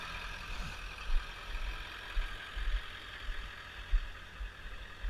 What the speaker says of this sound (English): It's idling nice and clean.